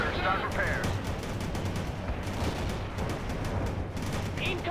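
Gunfire crackles through a World in Conflict battle, rapid repeated bursts and scattered shots at mid distance, with voices and radio chatter underneath throughout.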